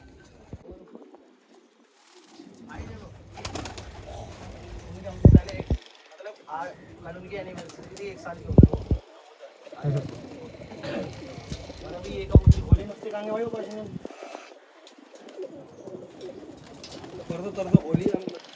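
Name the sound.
pigeons cooing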